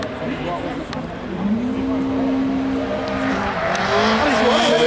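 A Honda rallycross car races through its joker lap on a gravel-and-tarmac track at a French championship round, its engine holding a steady droning note in the middle distance while a commentator talks over it.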